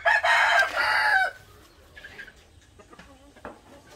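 At a grass-lined chicken coop, a rooster crows loudly and close for about a second, followed by softer scattered clucks from the hens.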